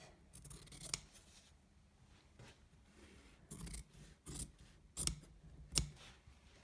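Scissors cut fabric for a fly front zipper in several quiet snips and crisp closing clicks, spaced irregularly and heard close up with no talking.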